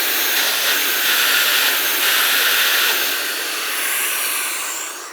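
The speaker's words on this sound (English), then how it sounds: "the noise, this is like a little turbine engine, it seems like, and it does get pretty high pitched" A Kica Jet Fan Max handheld car blower runs at full power with a loud, steady, high-pitched turbine whine and airy rush, easing slightly toward the end.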